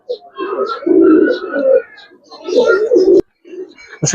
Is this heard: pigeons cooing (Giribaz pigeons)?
yes